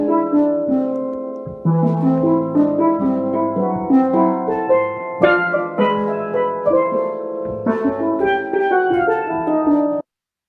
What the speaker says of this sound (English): A double guitar would sound like this